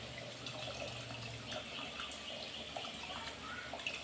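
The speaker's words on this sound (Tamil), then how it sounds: "கொஞ்சம் புளி ஊற்றிக்கலாம்" Tamarind water is poured into a pot of bitter gourd sambar. A faint, steady trickle of liquid continues for a few seconds, quiet and without speech.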